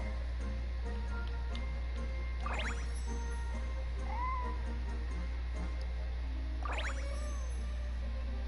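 A cat in Genshin Impact meows twice, a few seconds apart, short rising-falling calls over a steady low game hum and faint background ticks.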